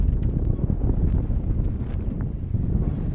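Constant blustery wind rushes over the microphone aboard a wooden sailing dinghy at sea in the Minch, a dense low roar with no pauses and no voices.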